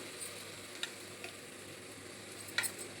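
Quiet, steady sizzling of avarekalu (hyacinth beans) frying in a tempering in a pan, with a few light scraping clicks from stirring.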